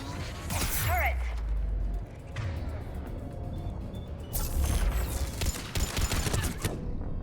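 A turret fires in the sci-fi shooter Mass Effect 3, a dense, loud barrage of rapid shots that roars through the clip amid combat noise, with a voice calling out over it.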